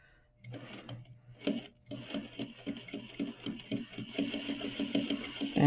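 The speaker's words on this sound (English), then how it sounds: "I'm just stitching trying to catch the fold" A sewing machine stitches a patch pocket onto fabric, running in a steady rapid mechanical chatter with a rhythmic pulse. It speeds up slightly toward the end and is heard close and alone.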